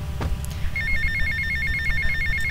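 A phone rings inside the video game GTA with a rapid electronic trill that starts partway in and repeats steadily over low background game noise.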